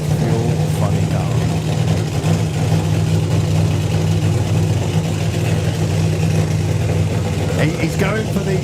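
A Mustang fuel funny car engine idles loud and steady at a drag strip before its run, a deep, continuous rumble that holds throughout with crowd and track noise around it.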